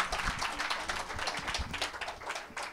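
Audience applause after a women entrepreneurs session, dense steady clapping from a crowd across the whole clip, moderately loud with no speech over it.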